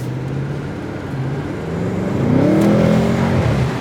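Engine of a 2021 Audi S8 rising in pitch as it downshifts under acceleration, a smooth swelling revving whir that grows louder through the second half, heard from inside the quiet cabin.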